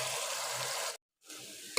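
Boiled kachnar buds frying with keema in a pan, a steady close hiss of sizzling that cuts out briefly and then resumes a little softer.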